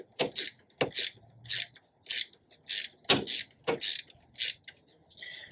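Ratchet wrench tightening bolts on battery cable terminals of a Toyota Land Cruiser FZJ80: a series of crisp, close ratcheting bursts in a steady back-and-forth rhythm, with brief pauses between strokes.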